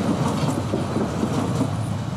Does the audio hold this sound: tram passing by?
yes